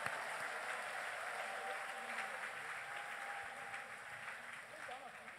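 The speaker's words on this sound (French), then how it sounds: "Clap your hand for Jesus." A church congregation at a Sunday anointing service claps steadily in sustained applause, a dense wash of hand claps heard from a distance and softly, with a voice speaking over it.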